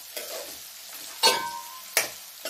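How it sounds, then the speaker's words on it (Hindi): Onions being stirred in a frying pan while making aloo poha: a soft sizzle under three sharp scraping strokes of a spoon against the pan, close up, with no talk. "मैं साथ ही प्याज डाल दूंगी। अच्छे से मिक्स कर दिया।"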